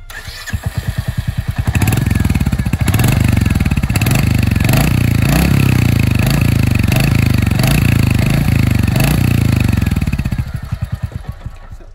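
Royal Enfield Hunter 350 motorcycle with a short silencer, idling near and loud with a steady thumping single-cylinder exhaust beat that swells, holds for several seconds, then dies away.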